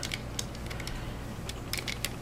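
Plastic Fuzor Injector Transformers toy from Beast Wars, its leg folded forward during transformation: a few faint, quick clicks and ticks of the joints over a steady background hiss.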